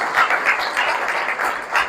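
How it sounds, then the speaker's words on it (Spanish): Applause from a congregation at a youth Bible and music gathering, a steady wash of many hands clapping at once, held at an even level throughout without anyone speaking. "Denle un fuerte aplauso al Señor."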